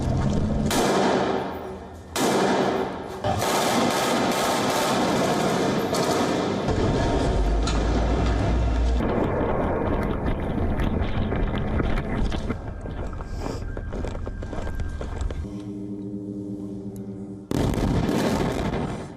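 Israeli airstrikes on Hamas targets in the Gaza Strip sound as loud, dense blasts and rumbling explosions, with gunfire-like cracks and sustained roaring noise throughout.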